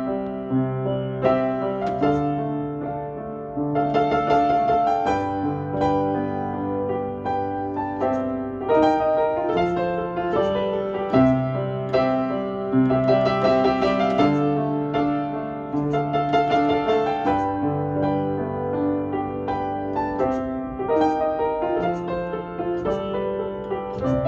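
A Bechstein Model V piano plays a flowing melody with rich sustained chords, steady and fairly loud throughout with no voices.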